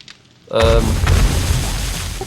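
A sudden loud boom erupts in the survival video game 7 Days to Die and rumbles on with a deep, rolling tail, with a voice talking over it.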